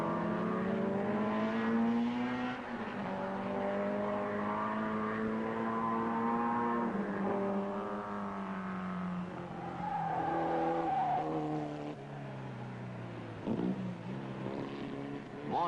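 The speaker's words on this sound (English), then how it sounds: "by the end of the lap, the order is Hall in the Chaparral, number 66. Gregory in the Lotus, number 4" Race cars at the 1962 Players 200 at Mosport, including a Chaparral and a Lotus, drone past with steady engine tones that rise and fall in pitch, loud and continuous throughout.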